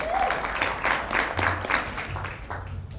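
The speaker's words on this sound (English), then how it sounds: "Round of applause." Moderate applause rises from a business presentation audience celebrating award winners, steady clapping lasting a few seconds at medium distance with faint murmurs underneath.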